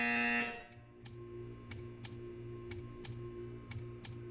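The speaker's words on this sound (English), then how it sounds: "When you hear the buzzer, stare at the art." A buzzer in the Portal 2 video game sounds a steady series of regular pulses, eight short beats about half a second apart, over a sustained electronic hum, right after a brief loud tone cuts off.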